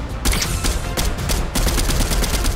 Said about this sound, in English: Who's that guy shooting at?